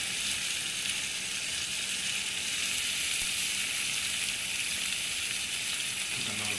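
Smashed new potatoes frying in a cast iron skillet give a loud, steady sizzle and hiss that holds close and unbroken the whole time, with nobody talking.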